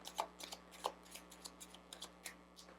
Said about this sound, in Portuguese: Agora vamos pegar aqui um baralhinho cigano para vermos mais informações.